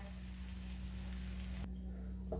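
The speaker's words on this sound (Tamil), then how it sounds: "ரெண்டு பக்கமும் நல்லா வந்து கோல்டன் ப்ரௌன் ஆகிற வரைக்கும் நல்லா ஃப்ரை பண்ணலாங்க" Aloo chapati fries in oil on a pan with a steady, fairly loud sizzle and a constant low hum, cutting quieter near the end.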